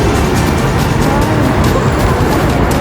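Loud, continuous road traffic noise in Dubai, with cars roaring and rushing past close by without a break.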